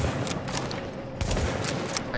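Gunfire in the Dark Zone of The Division video game sounds as a run of sharp shots, with some bursts grouped close together and others spaced apart. The volume is moderate, with no clear speech over it.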